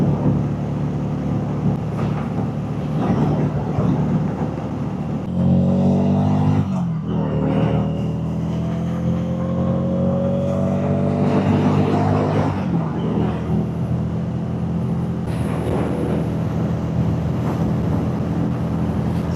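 A Harley Davidson Street XG500 motorcycle cruising on a rural road, a loud steady engine drone with gear changes and rising revs, heavily mixed with rushing wind noise on the microphone throughout.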